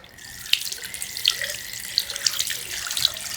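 Vaping coil rinsed under a running tap, a steady close hiss of water over a sink with small clinks and splashes as the coil is turned in the stream.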